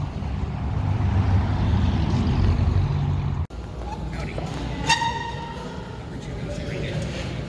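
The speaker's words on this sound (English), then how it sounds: "Sorry for all the traffic noise, it's right on an interstate." Steady roar of heavy interstate traffic in Grand Prairie, Texas, with trucks rumbling past, loud and continuous, with a brief dropout and a squeal of air brakes partway through.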